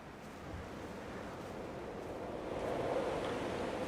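Wind gusts and waves wash against an island shore in the video game Dear Esther, a continuous rushing roar that swells louder near the end, heard alone without speech.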